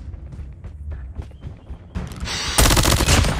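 Rapid automatic gunfire from a first-person shooter video game, loud and dense bursts that grow heavier toward the end, layered with mechanical clatter and no talk.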